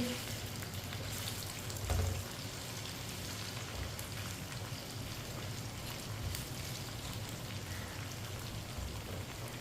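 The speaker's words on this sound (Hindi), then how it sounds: "भिंडी को ऐसे ही हल्के हाथों से मिक्स करते हुए पका लेते हैं।" Okra coated in gram flour frying in a pan over medium heat, giving a steady, even sizzle with a dense, crackling hiss that holds throughout, plus a brief louder burst early on.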